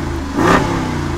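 The 392 V8 in a new Jeep Wrangler, exhaust opened by a button, gives a short sharp rev off-road, rising quickly and falling back to a steady idle rumble over a little over a second.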